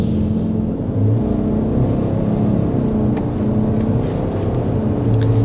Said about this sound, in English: Speeding up to 55 miles an hour